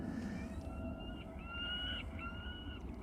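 At Amsterdam Schiphol Airport, a bird control vehicle on the runway broadcasts recorded predator bird cries: faint, distant, wavering screeches repeated over a steady airport background hum.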